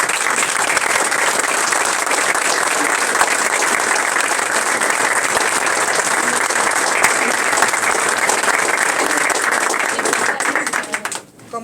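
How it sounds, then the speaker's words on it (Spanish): Loud, sustained applause from an audience at a formal ceremony, a thick continuous roar of clapping lasting over ten seconds before it tapers off at the end. "Vamos a acompañar este momento con un fuerte aplauso."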